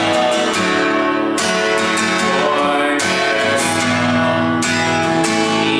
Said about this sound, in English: you can use that new strumming pattern on the chorus